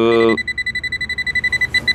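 Rapid electronic beeping from a leak detector searching for a leak in a heat pump exchanger with nitrogen-hydrogen gas, a steady train of short chirps about every tenth of a second, following a brief harmonic tone at the start.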